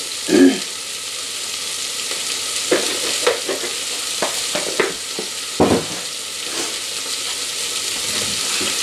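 Vegetables sizzle in a hot pan while a utensil stirs them, giving a steady frying hiss broken by irregular scraping and clattering strokes close by, with no voices.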